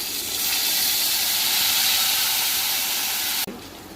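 Masala with tomato, cumin and green chillies cooks in a pan with a little water, giving a loud, steady hiss and sizzle that cuts off abruptly near the end.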